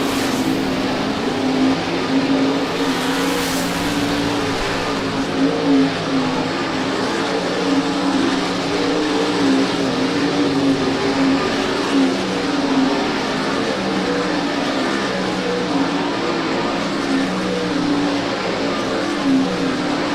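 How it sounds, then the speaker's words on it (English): World of Outlaws sprint cars run race-ready hot laps at Volusia Speedway Park, a continuous loud engine roar that stays steady throughout with a brief swell early on, with no voices. "Pace begins to quicken for the drivers in race ready hot lap session number 3."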